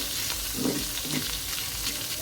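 Fish fry lightly in hot oil in a wok, giving a quiet, steady sizzling hiss with faint soft bursts, alone without voices.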